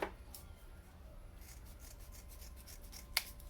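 Scissors cut through a fresh Scotch-Brite pad in a workshop, producing faint, close rasping snips with one sharper click near the end, all very quiet.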